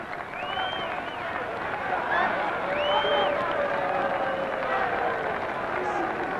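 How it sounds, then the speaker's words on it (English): Crowd applause at a boxing fight, a steady wash of clapping and murmuring that swells slightly midway, with an announcer's voice and whistle-like tones running over it throughout. "Crowd is applauding with about 50 seconds to go."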